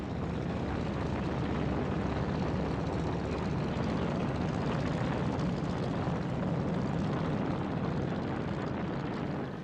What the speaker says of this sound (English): It would be made by at least 100 B-29s, all dropping incendiary bombs.